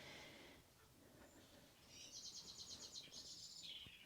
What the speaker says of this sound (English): I've got lots of birds in my garden.